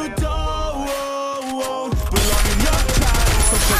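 Rapid gunfire in a Free Fire solo ranked match, a sustained loud burst of automatic shots that grows denser and louder toward the end, layered over game music and effects.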